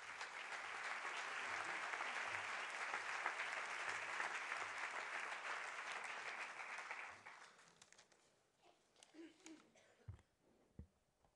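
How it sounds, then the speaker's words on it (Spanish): An audience at a union event applauds loudly and steadily for about seven seconds before the clapping fades into scattered claps and room noise. "Recibámosles con un aplauso."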